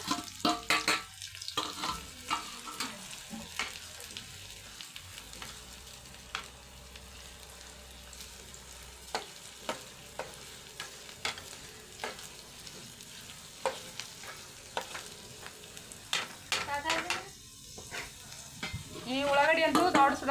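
Onions frying in oil in a home kitchen pan, a steady sizzle with intermittent stirring scrapes and clinks throughout, growing louder and busier toward the end.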